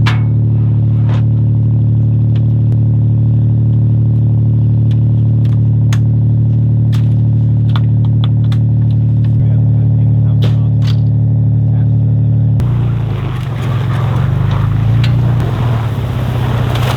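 A truck engine running steadily as the vehicle drives through cold winter terrain, a loud continuous low drone that shifts into rougher, noisier churning near the end.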